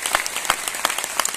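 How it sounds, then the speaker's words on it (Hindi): Loud, sustained applause from an audience at a CSS program event in Basti, with dense clapping and sharper bursts across the brief stretch and no speech over it. "एक बार जोरदार ताली बजा दीजिए।"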